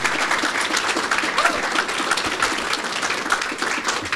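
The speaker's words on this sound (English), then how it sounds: "I would like to give a round of applause to the mentors for all of their support" An audience applauds the mentors at a student research talk session, a steady wash of clapping that carries through the whole stretch at moderate loudness with no voices over it.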